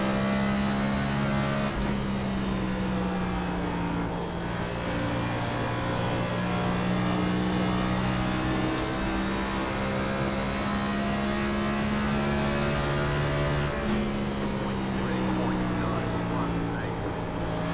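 NASCAR Cup cars race at Rockingham, a high-banked old-school oval in the iRacing sim, their engines droning continuously and shifting pitch through the laps, loud and unbroken throughout.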